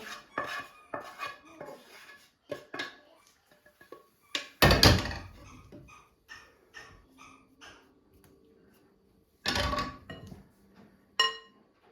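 Several clattering thuds and scrapes of apples tumbling from a pan onto a plate, with two louder knocks among lighter kitchen clinks.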